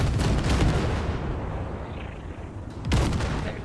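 Ship guns blasting wrecks in Cyberpunk 2077, sounding as a continuous loud barrage of booming blasts with a heavier burst near the end, with no talk.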